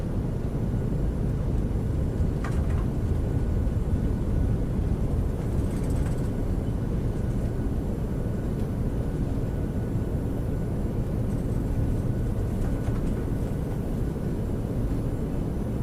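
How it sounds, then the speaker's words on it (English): Loud, steady roar of PMDG 737-900ER thrust reversers on landing in the MSFS flight simulator, a dense continuous rumble with faint clicks, no talk. "Reversers are normal."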